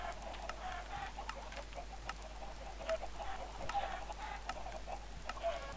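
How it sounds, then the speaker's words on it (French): Many chickens cluck in a busy flock in Minecraft, overlapping clucks and short calls over a steady low hum and faint ticking. "Là, on a beaucoup de poules"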